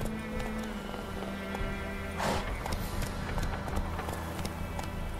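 Roach the horse gallops in The Witcher 3, a steady run of hoofbeats under a continuous game soundtrack with a brief louder rush midway.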